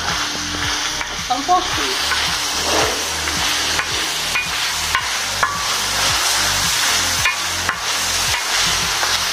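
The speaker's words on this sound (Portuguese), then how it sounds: "E vou colocar também um pouquinho aqui do nosso, da nossa cebola, dos nossos temperos aqui. Só para dar mais sabor para essa carne." Onion and seasonings sizzle and fry with meat on a plow-disc griddle for feijão tropeiro, a steady loud crackle with repeated stirring scrapes throughout and a brief spoken remark.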